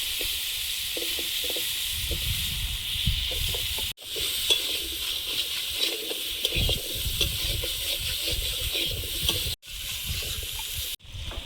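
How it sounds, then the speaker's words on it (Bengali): Pointed gourd and potato frying in oil left over from frying prawns, a steady close sizzle with spatula scrapes and clatter, briefly cut off twice. "আর এই চিংড়ি মাছ ভাজার তেলে চিংড়ি মাছের স্বাদটা থেকে যায়। ওই তেলে পটল আলু ভাজবো।"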